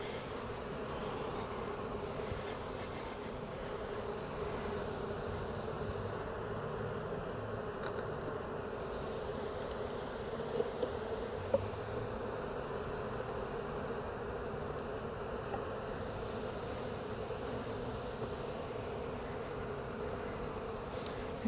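A honeybee swarm hums around backyard hives in a steady, dense drone that carries on unbroken and fairly soft, with a couple of faint clicks partway through.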